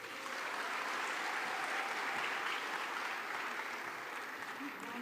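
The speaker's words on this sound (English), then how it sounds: "Another round of applause for her." Steady applause from a sizable crowd at a closing ceremony in Kigali, Rwanda fills the room, dense and even throughout without letting up.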